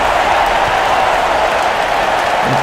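A Miami basketball arena crowd roars steadily after a dunk, a broad, continuous wash of cheering and applause that holds at full volume throughout.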